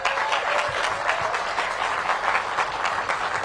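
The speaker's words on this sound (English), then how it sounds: "Let's give her a round of applause." Steady, full applause from a crowd at DGS headquarters for Mayor Bowser at an economic development event east of the river, a continuous close wash of clapping throughout.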